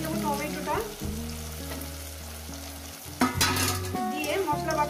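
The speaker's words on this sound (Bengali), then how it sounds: "এবার মশলাটাকে সুন্দর করে কষাতে থাকবো, যতক্ষণ না মশলা থেকে তেলটা আলাদা হয়ে যাচ্ছে" Spice masala with onion and tomato fries in a pan, a continuous sizzle and scrape of stirring heard beneath tuneful background music.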